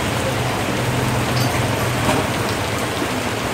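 Rain falls steadily in a constant close hiss on a Saigon street while meat and pork ribs are grilled at a broken-rice stall, with a faint low hum beneath and no talk.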